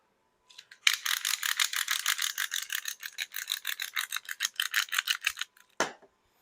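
Salt seasoning rubbed onto pork by hand, heard close up as a run of quick gritty scratching strokes in a rapid, even rhythm that ends with one last rub.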